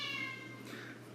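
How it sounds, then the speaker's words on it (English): A cat gives a single short, faint meow, heard alone in a quiet room. "Leo's the cat."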